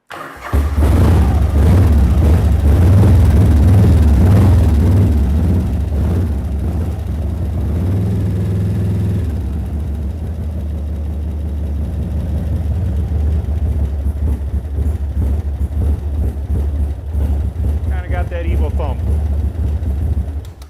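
An engine cranks and fires on full choke in a shop, catching at once and settling into a steady, loud, close idle; someone talks over it near the end.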